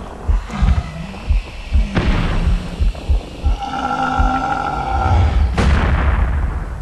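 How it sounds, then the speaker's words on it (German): Several sharp gunshots from the video game Resident Evil Outbreak ring out among thuds and clatter, with a sustained tonal hum swelling in the middle. "Leute, das war der letzte Schuss!"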